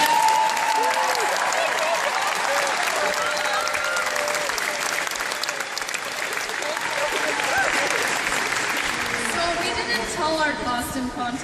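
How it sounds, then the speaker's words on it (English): A crowd at the Minecon 2013 cosplay contest applauds steadily and loudly, sustained clapping filling the whole stretch with a few cheers mixed in. "Can you give him a round of applause for that?"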